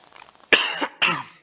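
Two harsh coughs, close and loud, half a second apart, following a few soft breaths.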